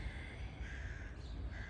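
Crows cawing outdoors near a mango tree, repeated harsh calls sounding over a steady broadband background, moderately close and continuous throughout.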